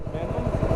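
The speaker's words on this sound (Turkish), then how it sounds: "Ara gaz veriyorsun." A motorcycle engine throbbing and revving with a low, rumbling pulse, heard close up in a brief burst.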